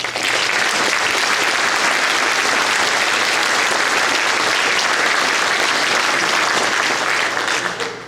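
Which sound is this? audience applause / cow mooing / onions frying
audience applause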